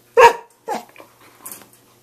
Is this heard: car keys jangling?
no